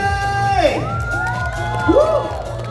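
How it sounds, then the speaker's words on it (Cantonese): An audience at a cosplay contest award ceremony at the Hong Kong Ani-Com & Games festival cheers loudly, with rising whoops and shouts swelling over a dense crowd roar. "可唔可以俾啲掌聲現場每一位朋友？"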